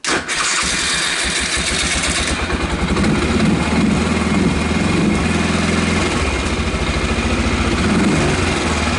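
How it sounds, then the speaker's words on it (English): A Kazuma Jaguar 500 ATV with a rough-sounding starter cranks and catches, then its engine runs loud and close with a steady chugging idle throughout. "I'm not happy the starter sounding like that."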